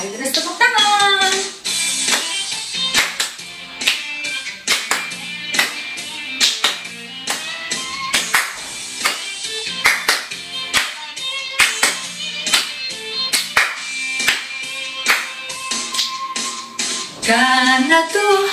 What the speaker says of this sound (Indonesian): Mari terus tepuk tangan.